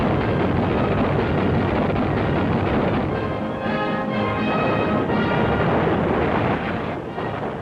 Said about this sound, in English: American naval guns open up on the Jap-held Solomon Islands